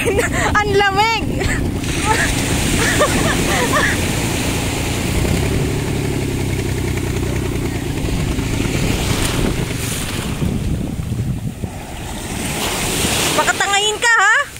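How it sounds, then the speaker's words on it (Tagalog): Ocean surf rolls and breaks steadily on Nanwan Beach in Kenting, a continuous loud wash with wind buffeting the microphone and brief excited voices near the start and end. "Ganda po ng alon."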